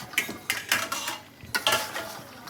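Potatoes and garlic go into a cooking pan in a home kitchen, with several close, sharp clanks and scrapes of a utensil against metal in uneven bursts and no talking.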